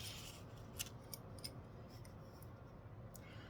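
Scissors cut along drawn lines in a few quiet, crisp snips spread over a few seconds, close by against a soft background hiss.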